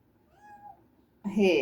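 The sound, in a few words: cat meowing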